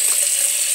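Steady, close hiss of a tap running into a sink while hands are washed, unbroken throughout with no voices over it.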